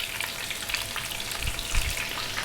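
Two cups of chopped onion hit a pan alongside browning lamb shanks, giving a close, steady frying sizzle with a soft rumble of movement and no talk.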